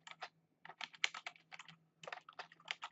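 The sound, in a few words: typing on a computer keyboard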